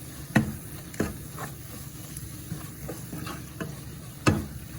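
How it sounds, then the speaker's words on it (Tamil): Prawn puttu mixture with grated coconut stirred in a pan: soft scraping strokes with a few sharp spoon knocks against the pan over a faint sizzle, close up and without speech. "இப்போ இதை மூண்டையும் சேர்த்து வடிவா கிளறுவோம்"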